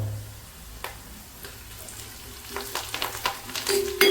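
Dried red chillies and curry leaves frying in hot oil for a Kerala-style cut mango pickle give a soft crackling sizzle with scattered pops that grow busier and louder toward the end, with no talking.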